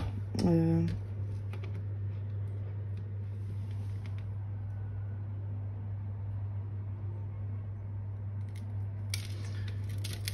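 Scissors snip through pompom balls in one quick, close cut near the start, followed by a steady low electrical hum for the rest.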